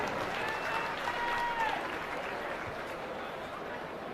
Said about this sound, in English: Let's have a round of applause for all of our Class 3 exhibitors